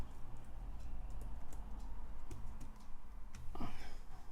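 Typing on a computer keyboard while entering Linux terminal commands, a soft run of close clicks and taps under a steady hum, with a brief louder clatter near the end.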